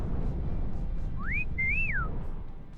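A person outdoors on a hillside whistles to catch a hiker's attention: a short rising note, then a longer rising-and-falling whistle, fairly faint over loud steady wind rumble.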